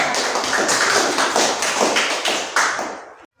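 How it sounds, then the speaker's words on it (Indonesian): A small group of students clapping together after a group presentation in a classroom, a dense steady patter of hands that ends abruptly. "Tepuk tangan buat kelompok tiga"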